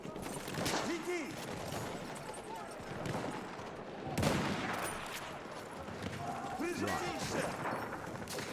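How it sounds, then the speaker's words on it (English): Rifle shots and surrounding battlefield gunfire in Battlefield 1, a busy, continuous fusillade with sharper cracks over a loud noisy background, with voices talking over it. "But it's a powerful rifle."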